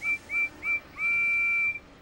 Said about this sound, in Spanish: Y tocó su silbato.